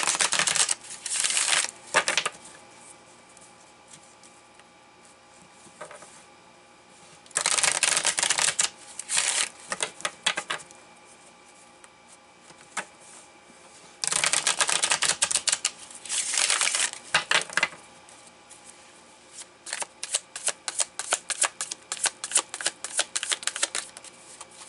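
A Light Seer's tarot deck being shuffled in several close, crisp bursts of riffling and flicking cards, separated by quiet pauses, ending in a run of quick, clicky card snaps.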